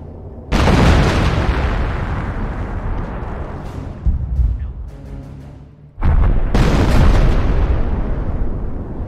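Artillery fires in the Company of Heroes video game during the WWII battle for Carpiquet near Caen: a sustained, loud roar of booming blasts that drops briefly and then returns with full force.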